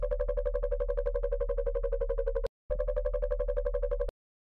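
A jump-up bass synth patch built in Serum with LFO-modulated distortion on the drive pulses in a steady, buzzy rhythm, loud and up front, stopping briefly before one more run and then cutting off.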